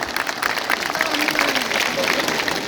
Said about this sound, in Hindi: जरा एक बार जोरदार तालियां बजाइए